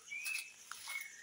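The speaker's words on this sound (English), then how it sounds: "You hear that bird singing?" High, thin bird chirps and whistles sound faintly in the distance over a soft outdoor hiss on a pepper farm.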